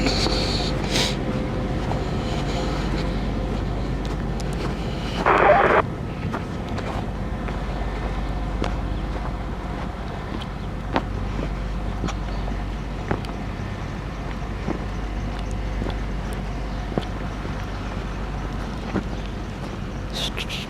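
A 190 tractor engine runs after a cold start on a mild winter day, giving a steady low rumble throughout with a brief higher tone near the start.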